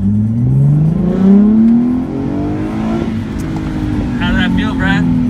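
A 2015 Nissan 370Z pulling hard at full throttle, its engine note climbing steadily and loudly from inside the cabin, then easing to a steady drone, with voices talking over it.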